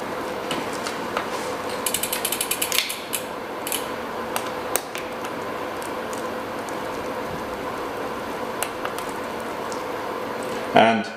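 Clutch lock on a SRAM Type 2 mountain bike rear derailleur, engaged during a chain change, gives a run of quick ratcheting clicks and mechanical ticks up close, with a few louder clacks near the end.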